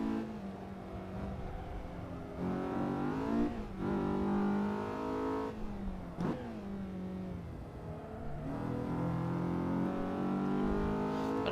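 Race car engine in a sim racing video game revving and accelerating through repeated gear changes, a steady loud mid-pitched drone with rising and falling pitch sweeps, close and continuous without any talk.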